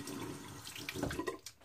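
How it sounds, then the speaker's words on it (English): Warm tap water running over a Ming Shi 2000s safety razor, a short splashing gush that shifts as the razor moves through the stream, quiet and close with no speech. "Alright, I'm going to wet the razor under some warm water."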